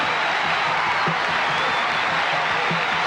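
A crowd at a karate demonstration breaks into a rousing ovation, dense continuous applause with some cheering, loud and close, filling the whole moment.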